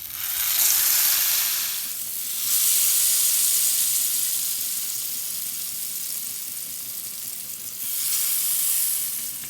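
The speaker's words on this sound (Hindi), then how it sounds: "अब एक एक करके स्लाइस को बैटर में अच्छी तरह लगाकर मीडियम हीट पर फ्राई करेंगे।" Bread slices coated in chocolate batter fry in hot ghee over medium heat, giving a loud, steady sizzle that swells and eases as each slice goes into the pan.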